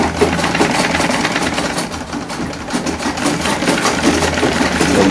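A sewing machine stitches fabric for African men's buba and sokoto wear, a steady, close mechanical whirr with rapid needle chatter running for several seconds without pause.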